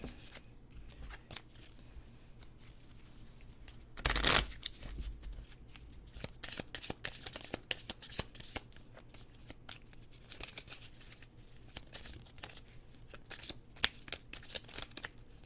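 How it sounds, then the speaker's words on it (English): A deck of tarot cards is shuffled by hand at a table, with repeated crisp riffling and flicking bursts, one louder riffle early on, and steady papery shuffling continuing throughout. "Really get these shuffled."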